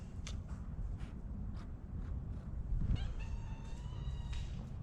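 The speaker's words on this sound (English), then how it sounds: "Pepper Cat, what are you doing?" A cat meows several times indoors, soft and near, with a longer drawn-out meow near the end over a low background rumble.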